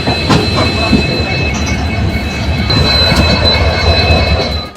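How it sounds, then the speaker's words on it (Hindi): Janhit Express train pulling out of platform 3 at Saharsa station at night, with a loud, continuous rumble of wheels on rails, a thin high squeal running over it, and faint clatter throughout. "बिल्कुल ऑन टाइम अपनी ट्रेन रात के 11:20 पे सहरसा के 3 नंबर प्लेटफॉर्म से डिपार्ट कर रही है।"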